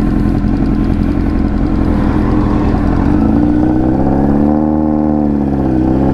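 A 2007 Honda CBR 1000 RR sportbike engine idles loud and close, a steady, rough rumble that lifts slightly in pitch partway through, with nothing else heard over it.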